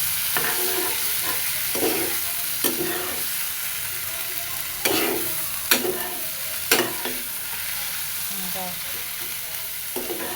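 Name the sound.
frying fish and fish roe in a pan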